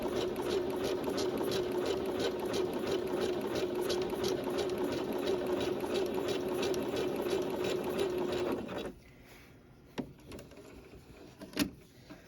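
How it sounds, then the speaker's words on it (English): A sewing machine running a zigzag stitch, a loud steady motor whir with fast rhythmic needle clatter for about nine seconds, then stopping into quiet with a few clicks and handling knocks. "it just goes back and forth and back and forth, making a zigzag stitch"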